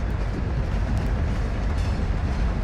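A moving train in a shooter video game, a steady loud rumble of rolling wheels and carriages with faint rail clatter and no pauses.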